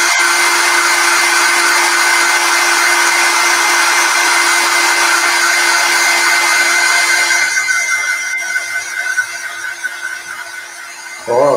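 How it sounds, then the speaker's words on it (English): A hair dryer blows steadily at close range to dry paint during a craft session, a loud continuous whir that runs for most of the stretch, eases off near the end, then surges briefly. "I dry with hair dryer just to be quicker."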